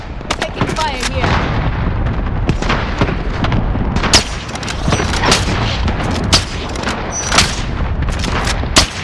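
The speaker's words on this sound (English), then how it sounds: "Allied cluster strike inbound." A cluster strike in the Call of Duty: Modern Warfare video game brings a dense, loud barrage of booming explosions mixed with rapid gunfire, continuous and overlapping for the whole stretch, with battlefield voices briefly under the din.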